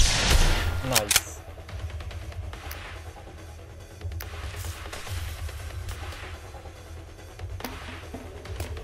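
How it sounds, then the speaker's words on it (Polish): Explosions and heavy gunfire from the tactical video game Reverse Collapse: Code Name Bakery, a loud boom at the start followed by a dense, steady rumble of battle noise. "Znowu eksplozja."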